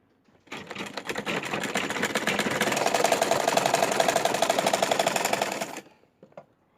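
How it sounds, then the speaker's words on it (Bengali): A sewing machine runs steadily for about five seconds, stitching and folding fabric for a baby's janghiya pant, with a dense, rapid mechanical whirr that starts abruptly, holds even, and stops, with no one speaking. "আস্তে আস্তে আমরা ভাঁজ দিব আর সেলাই করে আসব।"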